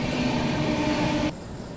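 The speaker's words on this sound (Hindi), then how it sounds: "तो बहुत ही स्लो रफ्तार में हम प्रयागराज जंक्शन को स्किप कर रहे हैं।" Rajdhani Express (New Delhi–Ranchi) rolling slowly through a station, a steady loud rumble of wheels and carriages that abruptly drops to a quieter hum near the end.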